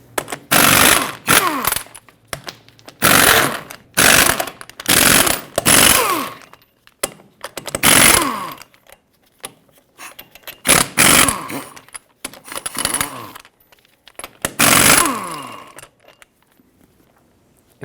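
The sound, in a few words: power tool removing 22mm lug nuts from Chevrolet Silverado wheel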